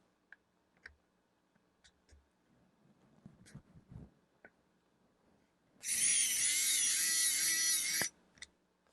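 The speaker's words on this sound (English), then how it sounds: "So let me get my laptop out and we'll remove some screws." A VMAN electric precision screwdriver backs a screw out of a 2012 MacBook Pro, a high whirring motor run of about two seconds, close and loud, framed by faint clicks and handling taps, no speech.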